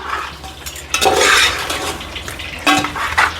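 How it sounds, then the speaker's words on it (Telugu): Chicken pieces being mixed by hand with spices, mint and coriander for Hyderabadi dum biryani, giving close, wet squelching and stirring sounds in two bursts with a pause between them. "ఈ మసాలా అంతా పీసెస్ పట్టేలా కలుపుకుందాం ఫస్ట్."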